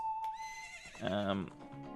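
Epona the horse whinnies in The Legend of Zelda: Ocarina of Time, a single clear, rising then falling neigh with a faint clip-clop of game sound beside it.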